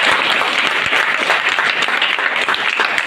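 Steady, loud audience applause fills the whole stretch, dense clapping from a sizable crowd at a wellness event honoring Mr. Sahil Sharma, with no voices over it.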